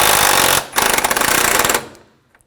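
A power impact tool rattles bolts tight during timing belt and water pump replacement on a 2004-2009 Audi A4, two loud close bursts of rapid hammering with a brief gap, then silence.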